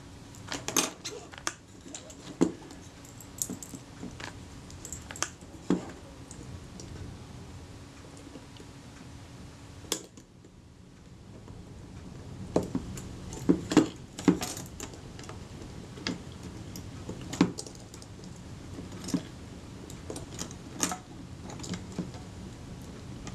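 Small metallic clicks, taps and clinks from dismantling a gummy, grease-clogged Kodak Retina I type 119 camera with film advance problems, close and sporadic, scattered irregularly over a quiet background.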